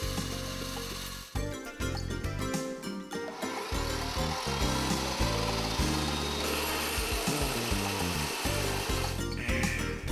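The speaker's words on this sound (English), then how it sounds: "Begin cutting when the power tool has reached a sufficient rotation speed." A power saw fitted with a steel-cutting blade grinds through material in loud, choppy bursts. The blade's whine is interrupted by stops and restarts near the start, then settles into a sustained harsh cutting drone.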